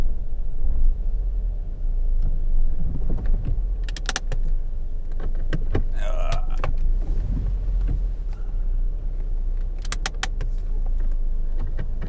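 A car is slowly moved around on a rainy outing, its engine humming low and steady while sharp clicks and mechanical ticks from inside the cabin stand out in small clusters.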